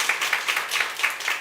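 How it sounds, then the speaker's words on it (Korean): Church congregation at a Sunday service clapping in a brief, rhythmic burst of hand claps, fairly close and steady with no talk. "박수 한번 주세요"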